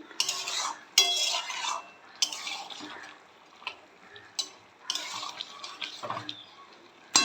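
Spinach chachori being stirred in a pan, with soft scraping and clinking of a spoon against metal in uneven bursts, fairly quiet and close, with no voices.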